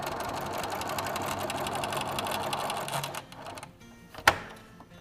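A sewing machine runs steadily at speed, stitching the fabric beak for a quilted chicken, then stops, followed by a sharp click and quiet handling.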